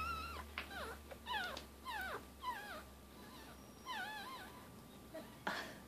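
Several tiny, high-pitched squeaks and whimpers from one-day-old Lhasa Apso puppies come in quick bursts, close by, over a faint low hum.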